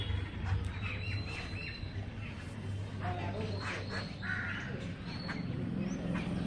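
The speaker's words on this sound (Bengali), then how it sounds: "এখানে একটুখানি দূরে সরলেই দেখুন কত পাখি" A flock of birds outdoors with crows cawing, several calls overlapping at a moderate distance over a low steady hum, with a voice talking at times.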